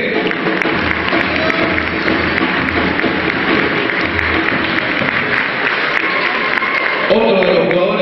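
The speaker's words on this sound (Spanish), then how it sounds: "Fuerte el aplauso para Leonardo Cortese." Dense, continuous applause from an audience at an awards dinner for club football champions, loud and steady for several seconds, with a voice briefly rising near the end.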